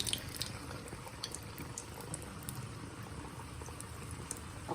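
Potato vadas deep frying in hot oil give a steady, close bubbling crackle that runs continuously without any talk.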